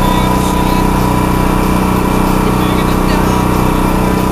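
A portable 6,500 watt generator's engine runs steadily close by, a loud continuous rumbling drone with a fast regular pulse.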